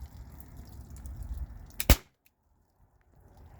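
A single sharp crack of a T4E HDP50 shot striking a bottle stands out after a low rumble of background noise, followed by near silence.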